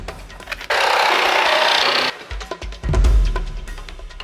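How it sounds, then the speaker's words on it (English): Plywood is handled and fastened against the back of a wire frame: a harsh, sustained rubbing scrape lasting over a second, then several close knocks and a heavy thud. "Got that plywood attached to the back."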